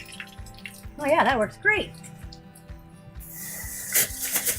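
A garden hose rinsing harvested mason bee cocoons: a bright, steady spray of water hisses in during the last second and a half, after a short spoken remark and some clinking.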